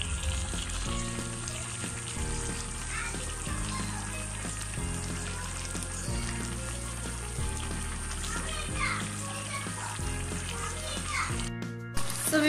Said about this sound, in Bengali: আমি এখন চুলার আঁচটা বাড়িয়ে রান্না করে নিচ্ছি।